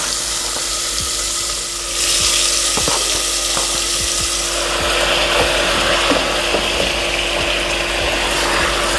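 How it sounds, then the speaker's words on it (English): Turkey neck searing in yellow curry in a pot, a steady loud sizzle and crackle with scattered pops throughout, close and continuous with no talking. "So we're just searing this off in that curry."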